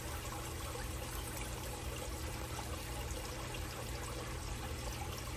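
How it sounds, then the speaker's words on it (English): Half a can of root beer pours into a pot of Appalachian-style chili, a steady close gurgling stream of liquid running without pause. "So we're going to take half a can of the root beer"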